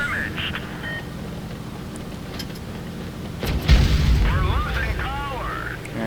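A tank cannon fires in the mobile tank battle game World of Tanks Blitz, landing as one deep, heavy boom midway through a steady bed of game ambience.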